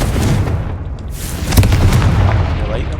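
Confringo blasting spell going off in the Hogwarts Legacy video game: a loud, rumbling explosive boom with a sharp burst about halfway through, over heavy low-end game noise.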